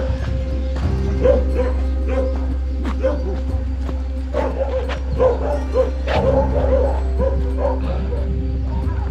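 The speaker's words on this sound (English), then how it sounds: "Dogs everywhere here." Several dogs bark and yip in repeated bursts over a steady low engine-like hum, somewhere out in the country of Georgia, with some whimpering mixed in and no clear talk.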